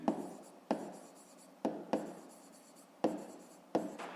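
A pen writes a digit on paper in a Ukrainian fifth-grade maths exercise, with six sharp scratchy strokes spaced irregularly over a few seconds. Each stroke is quiet, close and starts abruptly before fading.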